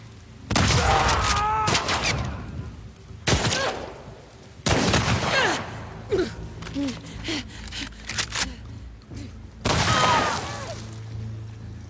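Shotgun blasts close to a Remington 870 in The Last of Us Part 2: several loud, sharp booms spaced irregularly, with a quick burst of shots in the middle and a faint voice between them.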